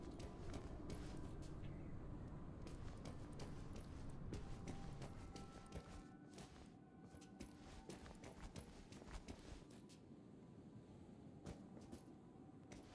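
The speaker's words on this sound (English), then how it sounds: "I'm hearing footsteps." Footsteps of players in the Overwatch holiday snowball fight mode, a steady run of quick clicky steps with clatter and game ambience throughout, loud and close for the first half, then a bit softer.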